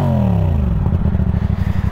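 A CFMoto 450 SR motorcycle with a replica Akrapovič exhaust revs up and settles into a loud, throbbing idle with rapid pulsing pops, close to the microphone.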